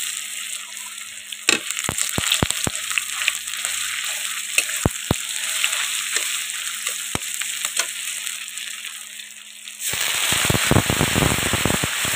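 Lentils and mustard seeds dropped into hot oil pop and crackle in sharp scattered bursts over a steady hiss, then the frying swells into a louder, denser sizzle near the end.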